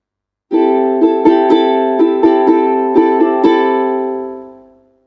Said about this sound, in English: The second type is a soft felt plectrum like this,